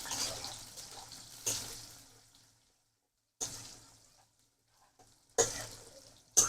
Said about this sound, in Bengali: আর এইখানে পেঁয়াজ ভাজা হচ্ছে